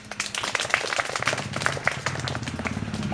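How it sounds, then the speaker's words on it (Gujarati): Children at a workshop at Tejgadh Tribal University in Chhota Udaipur, Gujarat, break into brisk applause for their classmates, a dense patter of many small hands that continues steadily, close by in a room. "તાળી થઈ જાય તમારા લોકો માટે."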